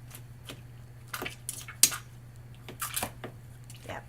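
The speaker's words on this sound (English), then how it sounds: "I'm going to stab them a few times." A fork stabs several times into soft, fully cooked green salsa ingredients in a pan, giving a handful of quiet, irregular squishy pokes over a steady low hum.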